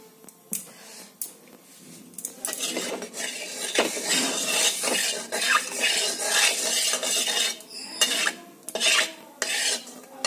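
Chicken pieces go into a pan for frying rice-style cooking, followed by steady metal stirring and scraping of utensil against cookware, loud and continuous with soft sizzling underneath; no talk.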